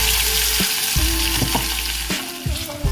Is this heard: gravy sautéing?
yes